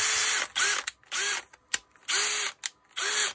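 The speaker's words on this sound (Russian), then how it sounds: "аккумуляторная дрель шуруповерт" A Makita DDF485 cordless drill-driver with a loose, wobbling chuck whirs in five short bursts, starting and stopping with brief pauses between, loud and close.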